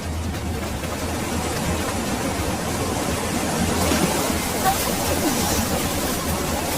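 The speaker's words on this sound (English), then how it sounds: "Oh, such raging waves!" Raging cartoon-story waves surge as a steady, rough wash of surf noise, loud and continuous throughout, with a slight swell toward the end.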